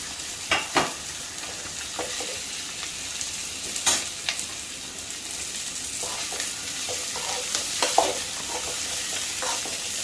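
Long-cut capsicum stir-fried in a pan for chicken dry gives a soft continuous sizzle, broken by a few sharp scrapes and taps of a spatula, with no one speaking.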